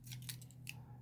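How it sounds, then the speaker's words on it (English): Small Victorinox Swiss Army knife scissors handled up close, a few faint light metallic snips and clicks over a low steady hum. "Scissors."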